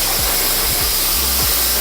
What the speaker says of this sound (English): then you put in your hairdryer